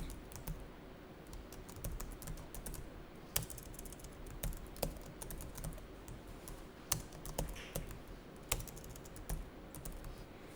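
Steady typing on a computer keyboard while entering data into accounting software, with irregular clicks and occasional sharper key strikes throughout, close and moderately quiet with no talking.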